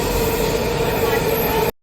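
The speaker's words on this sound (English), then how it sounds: "Everybody look, it's a train. It's a metro. Metro train, same difference." Metro subway train passing close by, a loud, dense rolling rumble with a high wheel squeal, steady for under two seconds before cutting off abruptly.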